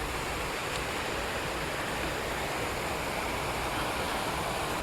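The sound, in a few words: water falling from a spring at a dam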